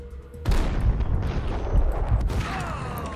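Gunfire erupts in the Max Payne video game, a sudden booming burst of shots followed by a dense, rumbling stretch of loud firing and impacts, with a second surge of blasts near the end.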